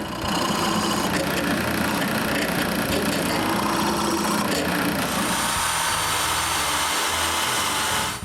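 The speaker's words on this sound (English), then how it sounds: "First of all, I drill 2 angle holes bigger than the screws." Power drill boring two angled holes, wider than the screws, into a wood block for a homemade wooden bandsaw; a steady, loud whirring drone runs continuously for about eight seconds, easing off near the end, with no talking.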